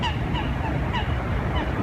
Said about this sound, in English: I love that sound of the birds.